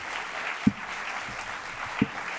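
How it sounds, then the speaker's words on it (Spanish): Audience applause for Jorge Gil at a preview screening and discussion of the film Marco, a steady patter of clapping across the room with a couple of sharper louder claps standing out. "un fuerte aplauso para Jorge Gil"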